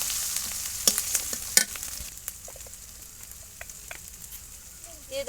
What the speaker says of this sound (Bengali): মশলাটা ভালো করে ভেজে নেব। দিয়ে দিচ্ছি কুচিয়ে রাখা টমেটোগুলো,